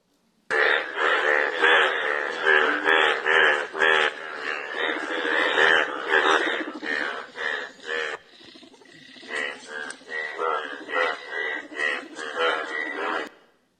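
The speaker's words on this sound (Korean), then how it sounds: "개구리 소리 오랜만에 한번 들어봅시다." Frogs croak in a loud, dense chorus played back from a recording, with rapid pulsing calls that continue steadily with brief dips.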